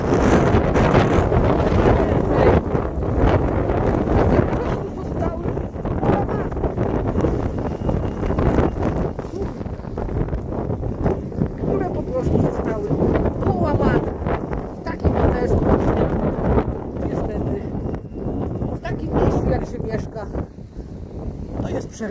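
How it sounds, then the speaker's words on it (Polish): Strong wind roars continuously, buffeting the microphone with heavy gusts, while a voice talks underneath throughout. "A wiatr się napędza i napędza i w ogóle nie zamierza"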